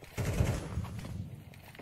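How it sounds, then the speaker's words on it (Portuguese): Gunfire in a Counter-Strike match: a quick, faint burst of rapid shots, slightly muffled and distant. "Disparos do Taquinho não acertam"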